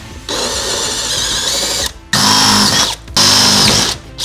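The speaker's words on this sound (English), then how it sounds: "And so we'll drill those holes." A power drill whirs in three sustained bursts separated by short pauses, loud and close, with the pitch rising as it spins up, drilling holes in a floor liner inside a RAM ProMaster van.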